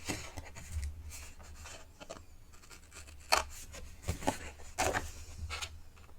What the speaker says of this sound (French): Je vais prendre mes ciseaux et venir biseauter